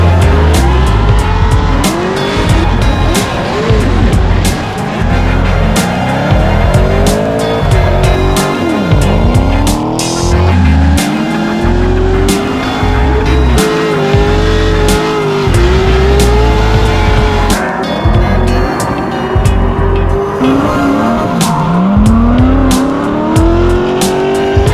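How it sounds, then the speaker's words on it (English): At the Holley LS Fest West car event in Las Vegas, cars drift in tandem with loud, constant engine roar and long howling tire squeal, revs rising and falling as they slide close by. "you've got an entire area where there's drifting going on."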